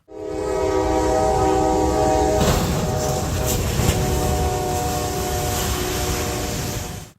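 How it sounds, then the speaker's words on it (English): A train horn blares in steady tones, then a crash of rumbling noise takes over as the train strikes a disabled truck on the tracks, heavy impact and clatter continuing loudly to the end. "sent debris flying in all directions as a disabled truck lay helpless on the train tracks"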